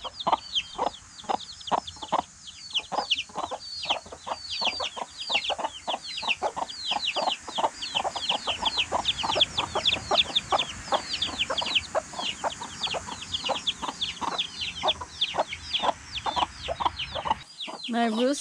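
A flock of chickens clucks busily and continuously, dense overlapping calls close by, with occasional louder squawks and a faint voice briefly in the background.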